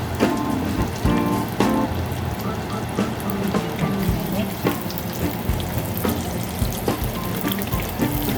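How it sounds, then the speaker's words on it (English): Onions frying in really hot oil at 350 to 375 degrees, a loud, dense, continuous sizzle with crackling pops, heard close up without any talking. "First thing she put in today are the onions in a really hot oil."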